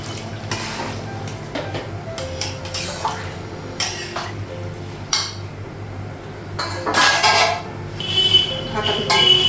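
A cooking pot being covered with its lid amid kitchen work, with several sharp metallic clinks and clanks scattered among softer handling noises and a louder clatter near the end.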